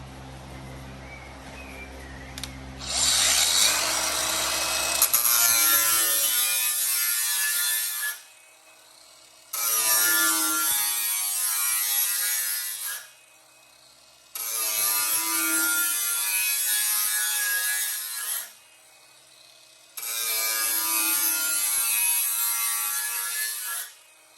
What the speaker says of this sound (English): I'm just going to do a little bit of grinding, the top.